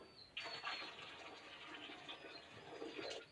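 Water sloshes as it is scooped out of a pot to be added to a pressure canner, a faint, steady pouring and trickling with a few louder splashes at the start and end.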